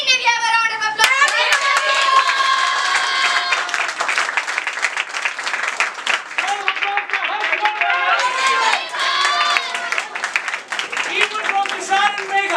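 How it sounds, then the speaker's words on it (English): An audience at a felicitation celebration gives a loud, sustained round of applause, dense clapping running through the whole stretch with bright tonal sounds layered over it. "So again, may we have a round of applause?"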